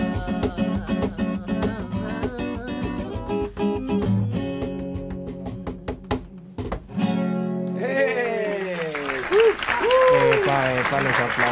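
Music from a ska band's performance ends and gives way to applause and cheering from the audience, dense clapping mixed with voices and shouts in the second half.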